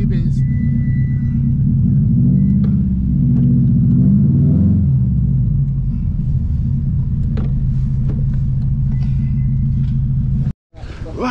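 Modified Subaru Impreza cars rumble at a Subaru club meeting point, a loud, steady low engine drone throughout with a brief swell in revs, while people talk over it.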